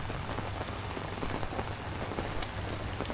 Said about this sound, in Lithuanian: o šiandien lyja